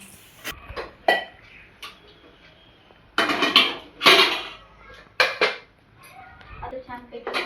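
A pressure cooker is readied for dal and rice, with sharp metallic clanks and knocks of the pot and lid scattered among intermittent voices in a home kitchen.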